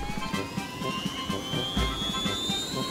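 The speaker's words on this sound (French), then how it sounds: "L'hélicoptère est prêt à fonctionner." A helicopter starting up indoors, its turbine whine climbing steadily in pitch over a rhythmic low thudding of the spinning rotor, fairly loud and continuous with no voices.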